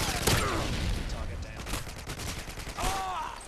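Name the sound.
gunfire in a video game shooter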